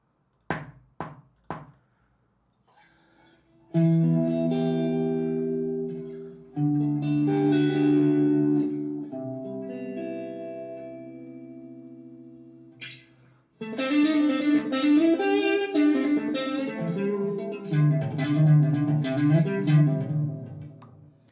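Sustained electric guitar chords, played straight into a computer through about three pedals with no real amp, drenched in chorus and reverb, rising in layered waves after a few sharp plucks, with no voices.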